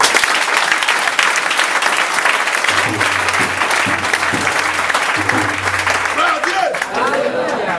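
A congregation at a church service breaks into loud, continuous applause, a dense wash of clapping that lasts throughout, with a low hum and faint voices mixed in beneath it.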